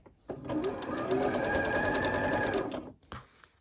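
A sewing machine runs steadily for about three seconds, chain stitching quilt block pieces, loud and close with a fast, even rhythm, then stops and briefly restarts.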